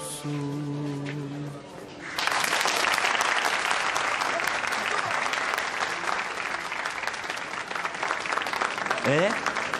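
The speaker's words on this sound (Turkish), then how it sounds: "Alkışlasana sen de." Sustained applause in a Turkish drama scene, starting abruptly after a short sung line and continuing dense and steady to the end, with a voice briefly heard near the close.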